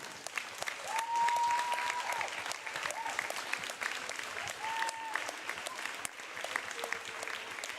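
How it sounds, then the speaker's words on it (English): Crowd applause for the officials at a varsity volleyball match against Sioux Falls Lincoln, steady clapping in a gym heard fairly quietly with a few whistle-like tones rising over it. "please stand and show your appreciation by giving a big round of applause for these outstanding officials"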